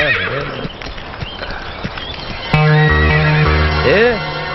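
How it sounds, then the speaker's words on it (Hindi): People talk at first, then a horse lets out a loud, close whinny with tonal wavering calls, mixed with rhythmic hooves clopping beneath it. "गोपाल, घोड़ा तैयार है तो ले आइयो।"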